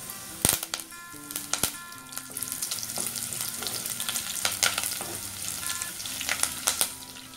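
Onions, green chillies and curry leaves sauté in a pan for a Kerala-style tuna curry, a steady crackling sizzle with sharp pops and a few bright clinks of a spoon against the pan.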